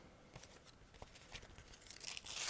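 A plastic bag holding two Eduard decal sheets from a 1/72 Bf 109F-4 kit is torn and crinkled open, faint close rustling and tearing that grows louder at the end.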